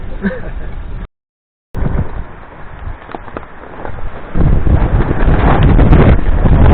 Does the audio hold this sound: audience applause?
no